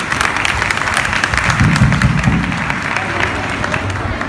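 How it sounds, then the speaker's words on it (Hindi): An audience at a cultural performance at a Gaudiya Math temple in Janak Puri claps loudly and continuously, a dense crowd applause with voices mixed in. "तालियां बजाओ जोर से।"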